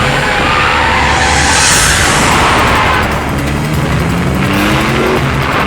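Engine of a car accelerating hard during a chase scene in a dubbed action film, a loud continuous roar with rising revs and booming impacts, no speech.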